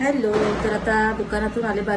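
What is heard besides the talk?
No distinct noise like a dog, phone or traffic.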